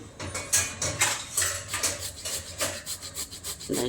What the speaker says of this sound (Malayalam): ഇതിനകത്ത് വെച്ച് നമ്മളിങ്ങനെ ചുരണ്ടി ചുരണ്ടി എടുക്കണം